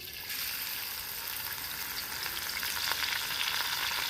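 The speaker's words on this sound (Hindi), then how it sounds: "घ्यो गरम हो गया और मैं कटी हुई मिर्च ते प्याज पावां दी" Chopped chili and onion sizzling in hot ghee, a steady, dense frying hiss that holds evenly throughout with no voices.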